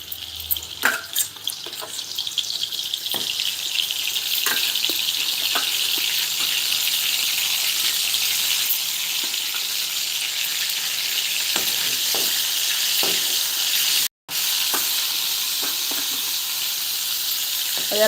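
Prawns fry in hot oil in a home kitchen, a loud, continuous sizzle and crackle with occasional stirring clinks, steady throughout with no voices.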